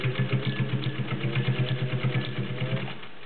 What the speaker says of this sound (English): We're going to sew through a Levi's pocket, which includes seams and the whole deal, using a size 16 needle.